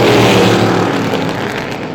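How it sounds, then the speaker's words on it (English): Vintage race cars in a tight pack roar past on a speedway, a loud engine drone with a passing sweep that slowly fades as the cars move away. "Tight pack racing in the Wicked Good Vintage Racers up front, top 4 under a blanket now."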